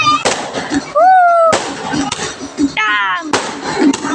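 Firecrackers burst at a Dussehra Ravana effigy burning, a few sharp loud cracks ringing out over crowd noise and talk.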